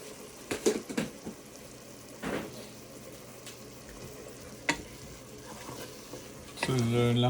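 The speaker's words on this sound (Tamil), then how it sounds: "ஸோ இதெல்லாம் போட்டு நீங்கள் கிளறி" Coriander powder and other spices are stirred into Kovai-style chicken curry frying in a pan. A spoon scrapes and clatters in scattered bursts over a constant sizzle, and a voice speaks near the end.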